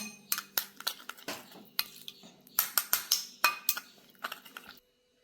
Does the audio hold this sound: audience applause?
no